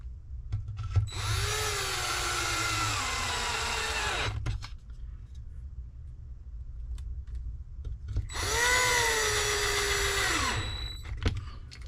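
Power driver sinking 3mm block screws into an Arrma Limitless RC speed boat, two long whirring runs with rising and falling motor pitch, separated by a quiet pause, close and loud with no talking.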